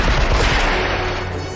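Dense gunfire effects from the film Die Hard rattle loudly in a rapid burst of shots that fades into a noisy roar, with no talk over it.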